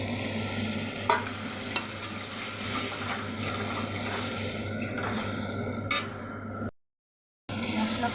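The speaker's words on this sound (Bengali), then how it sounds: "এবার আমি মশলা জিরে, আদা বাটা, কাঁচা লঙ্কা, হলুদ গুঁড়ি, লঙ্কা গুঁড়ি মশলাটা দিয়ে ভালো করে কষিয়ে নেব।" Cumin, ginger paste, green chili, turmeric and chili powder are stir-fried with potato and onion in a pan, giving a soft continuous sizzle with occasional spatula scrapes and clinks before a brief dropout of silence near the end.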